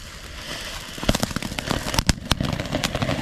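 Firecracker bombs going off outdoors, a few sharp loud cracks and pops spread over several seconds against a steady background hiss.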